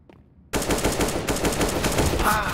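Rapid automatic fire from an AUG rifle in the video game Counter-Strike: Global Offensive, a loud, close, continuous burst of shots that starts abruptly after a brief quiet moment.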